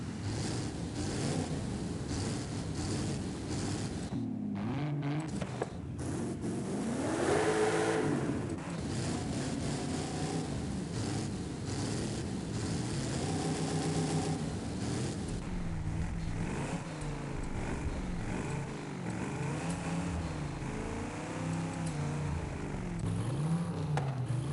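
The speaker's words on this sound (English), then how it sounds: "See if we can actually put a diesel motor in there." A video game vehicle fitted with a swapped-in diesel motor revs and drones continuously for a long stretch, rising and falling in pitch, with no voices.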